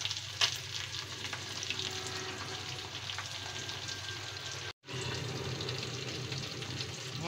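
Carrots, beans and cabbage sizzle and crackle steadily in a hot pan while being stir-fried for pancit bihon, a continuous close frying hiss with occasional stirring clatter and one brief dropout.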